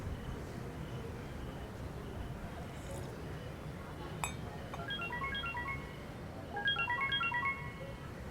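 A phone ringtone plays a repeating electronic melody in short bursts, fairly clear over a steady low background hum.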